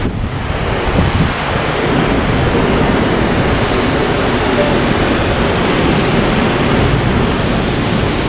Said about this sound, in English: This is the Niobrara River.